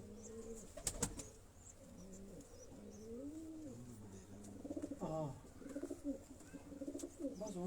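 A pigeon coos in repeated low, rolling phrases, close by, with a sharp click or flap near the start and a voice talking softly in the background.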